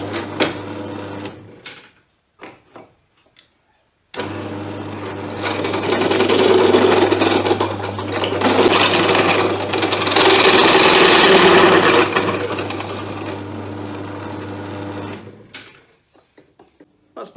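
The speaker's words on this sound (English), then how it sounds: "Then it's just a question of drilling these 25mm holes." A drill press bores 25mm holes in aluminium, a loud motor whine with harsh grinding cutting noise that swells for about eleven seconds before spinning down, with short bursts of machine noise before and after.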